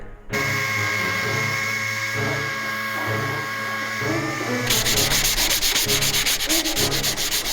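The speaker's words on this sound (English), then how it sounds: "I got my DA sander with a piece of 80 grit" A DA sander fitted with 80-grit paper grinds paint off a dented car fender in a steady, loud, close whir, its pitch and roughness changing partway through as the pad bites harder into the surface.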